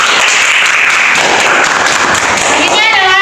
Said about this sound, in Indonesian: saya beri tepuk tangan untuk kawan-kawan